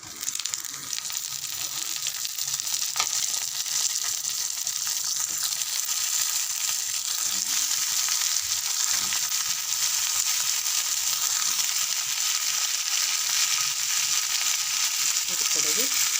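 Brinjal (eggplant) pieces fry in hot oil for a biryani side dish, producing a loud, continuous, close-up hissing sizzle that holds steady throughout with no talking.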